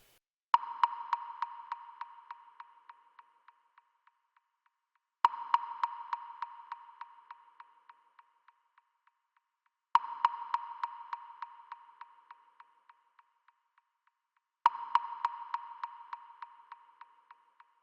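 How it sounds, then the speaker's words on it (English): Woodblock strikes in an eerie instrumental track, four separate hits spaced evenly apart, each followed by a long train of fading, repeating echoes before the next strike. "Woodblock sound."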